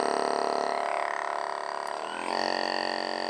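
A Tim Tam percussion massager runs at speed 1 close to the microphone, giving a steady buzzing motor hum with a rapid pulsing texture that dips briefly before resuming.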